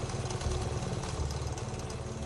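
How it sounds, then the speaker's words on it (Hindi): A motorcycle engine starts and settles into a steady, rumbling idle close by, a continuous low throb with no talk over it. "बाइक स्टार्ट की"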